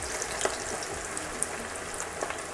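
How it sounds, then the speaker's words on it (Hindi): French fries frying in hot oil at home, a steady bright bubbling sizzle with small crackles and pops, close and continuous, no voices. "ऑयल फुल गरम हो चुका है, अब हम इसमें फ्रेंच फ्राई डाल देंगे।"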